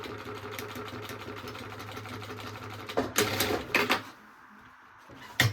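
A sewing machine runs a steady close whirring stitch along a backpack strap, then bursts through a few louder quick pulses before stopping and leaving quiet room tone.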